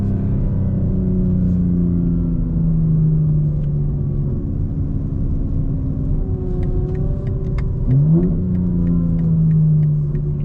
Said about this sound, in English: Oh, the car sounds insane right now.